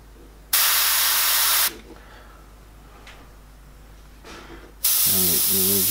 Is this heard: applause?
no